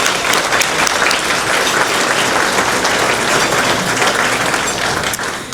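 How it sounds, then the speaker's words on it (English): Dense, steady applause from a large audience at a Tullahoma Area Chamber of Commerce celebration, loud and sustained throughout without letting up, tapering only slightly at the very end. "Let's give them a round of applause."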